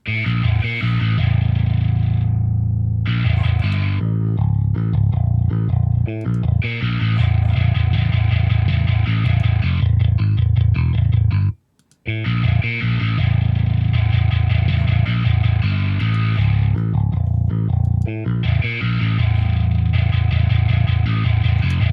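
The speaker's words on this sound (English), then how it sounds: "so you can hear the differences between the amplifier, clean, and distortion settings" An amplified bass guitar plays a riff, first with a clean tone, then after a short pause with a gritty, distorted tone.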